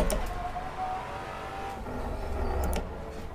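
A Maserati Quattroporte or Alfa Romeo Giulia Quadrifoglio sports sedan in the Assetto Corsa racing game accelerates hard, its engine droning loud and close with a steady rising roar and a brief whoosh near the end, no talking.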